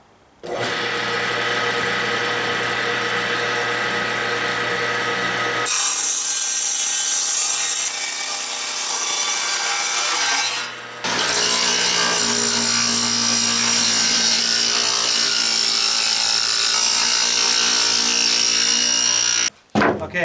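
A power saw rips a wooden board lengthwise down the middle, a loud continuous whining cut that shifts pitch partway through, with a brief dip near the end as the blade clears the wood.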